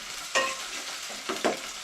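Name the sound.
stirring onions frying in pan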